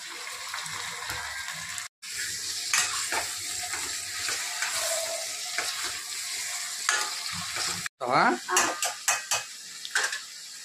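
Mutton frying with onions in a pot, a steady close sizzle broken by stirring scrapes and metal clinks against the pan, with a voice speaking over it at times.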